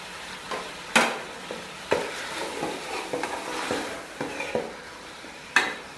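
Spices with garlic-ginger paste, methi, turmeric and green chilli are stirred in a karahi pan for chicken karahi, giving a low sizzle with repeated scraping strokes and occasional sharp clanks of the spoon against the metal.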